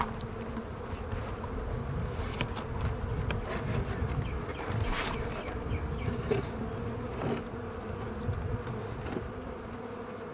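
Honey bees buzz in a dense, continuous drone at close range, with individual bees zipping past now and then and no voices present.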